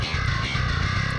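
Djent bass guitar run through a bass VST with EQ and a boost around 150–160, heard alone as a dense, distorted, growling tone that fills a steady, continuous passage with no other instruments.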